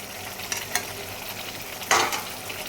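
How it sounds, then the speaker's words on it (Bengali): Potatoes sauté in a pan with a soft steady sizzle, broken by a few light spatula scrapes and one louder stirring burst near the end. "আগে আলু দিয়ে কষিয়ে নিলাম"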